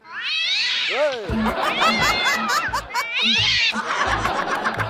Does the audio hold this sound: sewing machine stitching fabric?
no